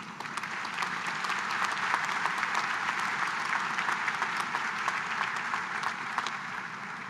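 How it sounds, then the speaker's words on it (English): A commencement audience at a summer graduation ceremony applauds steadily, a dense, even wash of many hands clapping, moderately distant, with no talk over it. "I think all of you deserve a round of applause."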